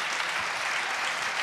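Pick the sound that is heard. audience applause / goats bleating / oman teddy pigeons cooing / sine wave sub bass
audience applause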